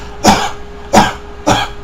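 Three separate dry coughs at close range, evenly spaced over a couple of seconds, each a short sharp burst with nothing else around it.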